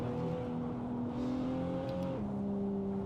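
A Toyota Supra race car in the Assetto Corsa sim at Buttonwillow, its engine holding a steady droning note that drops as it shifts gear midway, loud and continuous with no talking.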